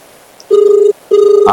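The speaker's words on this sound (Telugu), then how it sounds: "రింగ్ అవుతుంది." A phone rings on an outgoing video call, giving two loud, close, sustained ring tones separated by a short pause.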